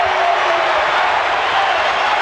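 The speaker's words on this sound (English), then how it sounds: "He's got the 3, and we're tied at 106. And the crowd erupts at ARCO." A basketball crowd roaring at ARCO Arena during a double-overtime game, a loud, sustained wall of cheering and noise with no break.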